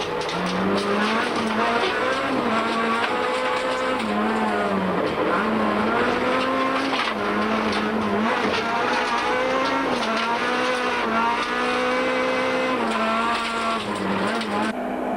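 A Toyota rally car races on a stage of the 2003 Sasol Rally, heard from onboard: a loud, constant engine roar with revs rising and falling through gear changes, plus tyre noise, under a narrator's voice.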